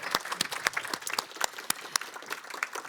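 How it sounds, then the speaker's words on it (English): A conference audience gives a brief, sparse round of applause, with individual claps standing out distinctly in a short, moderately loud burst. "A big round of applause."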